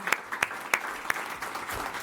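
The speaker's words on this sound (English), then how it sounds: "Please join me with applause for all of our panelists." An audience at a mayors forum in the Lake Minnetonka and Plymouth area gives the panelists a short burst of applause, with scattered separate claps rising out of the soft, quiet crowd.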